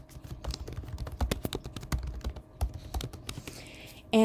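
Keys clatter on a computer keyboard during a login, close and irregular, with quick taps and short pauses and a soft hum beneath.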